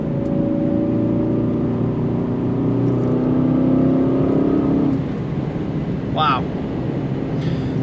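An Aston Martin DBX 707 SUV accelerates at part throttle, a steady loud engine drone and rising whir from inside the cabin that eases after about five seconds, with brief faint clicks near the end.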